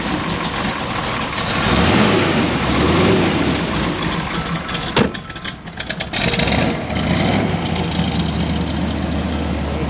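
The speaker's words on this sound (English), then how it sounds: "So we'll go ahead and fire up this beautiful Corvette" A 1969 Chevrolet Corvette convertible with a small block V8 idles steadily and loud up close, with a deep, even rumble that holds for the whole stretch and a brief dip partway through.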